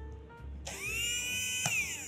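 A Tamiya Mini 4WD dynamo motor is switched on during a test and spins up into a high, steady electric whine. It sounds close and runs alone, with a small bump just before the end.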